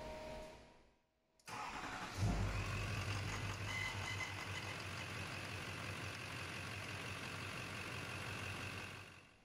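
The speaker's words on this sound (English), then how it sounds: "Now we can go ahead and fire up the truck." A 2005 Duramax diesel pickup truck fires up after a short pause, cranking briefly and then settling into a steady, loud diesel idle that runs to the end with no talking.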